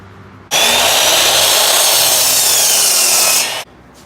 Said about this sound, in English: Gonna cut a 1x4, 16 inches long.